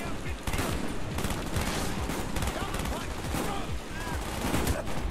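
Heavy gunfire in a Call of Duty: Black Ops mission, with rapid automatic bursts and single shots crackling continuously at close range. The shooting is loud and dense throughout, with occasional speech from players mixed in.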